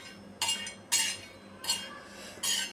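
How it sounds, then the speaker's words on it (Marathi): Dried Bombay duck fish is pressed and turned on a hot griddle, four short bursts of rough scraping and clinking from a utensil, with a quiet hiss between them. "तवा गरम झाला तर त्यामध्ये बोंबील टाकूया"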